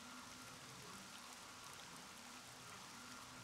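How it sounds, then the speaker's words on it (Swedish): Rain in RollerCoaster Tycoon 3 makes a soft, steady patter of raindrops that is faint and continuous, with no voices over it. "Har det börjat regna igen?"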